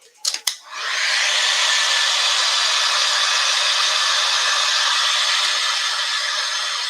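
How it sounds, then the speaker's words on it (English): After a couple of quick clicks, a hair dryer blows on a painted craft piece with a loud, steady whooshing hiss that stays constant to the end. "now I'm going to dry everything so that I can outline"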